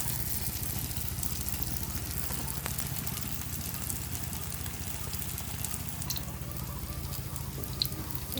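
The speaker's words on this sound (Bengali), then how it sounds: "ফ্রাই প্যানটা একটু গরম হয়ে গেলে চপগুলো বা রুটিগুলো দিয়ে ভেজে হালকা করে মুচমুচে করে ভেজে নেব।" Sago and potato patties fry in a hot pan, giving a steady soft sizzle with fine crackles and pops throughout, close and moderately quiet.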